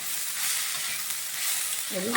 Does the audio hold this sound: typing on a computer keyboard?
no